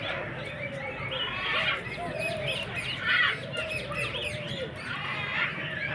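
Parrots in a park's bird house chirp and squawk in repeated bursts, fairly close and loud, with a faint murmur of voices underneath.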